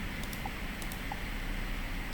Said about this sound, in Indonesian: klik keyboard, ketik perintah enable.